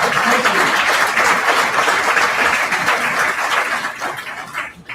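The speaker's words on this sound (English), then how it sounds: "let's give our round of applause" An audience at a chapter meeting kick-off press conference breaks into applause, a dense steady wash of clapping that holds for several seconds and tapers off near the end.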